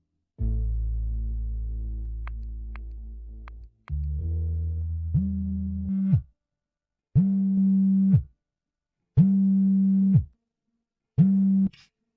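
A phone call fails to connect, sounding first a long steady dial-like tone, then a repeating busy tone: four evenly spaced, clean electronic beeps separated by silence, close and moderately loud.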